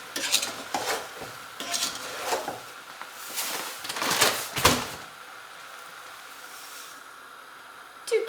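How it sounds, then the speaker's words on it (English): A doubled batch of rhubarb jam is stirred in a pot, with repeated scraping strokes and spoon clatter against the sides over a faint simmer, then a quieter stretch near the end. "I'll probably need to mix this up because it's starting to probably boil on the bottom."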